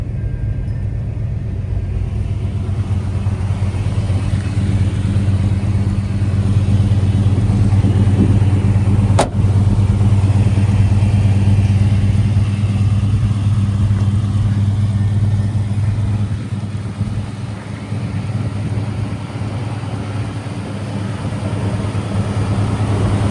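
A 1987 Chevrolet K5 Blazer hard top 4x4 with its factory 5.7 V8 350 idles steadily, a loud, close, continuous low rumble with a slight swell in revs partway through.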